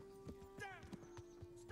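Horse hooves clip-clop in the medieval game Kingdom Come: Deliverance, a few irregular hoof knocks over a steady game hum, with a brief whinny-like tone and voices murmuring underneath.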